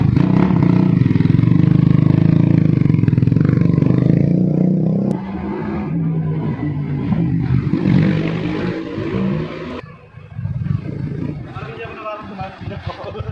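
A loud Yamaha SZ motorcycle engine, upgraded from 150cc to 180cc, roars and revs close by, then drops to a rougher idle with fluctuating throttle bursts.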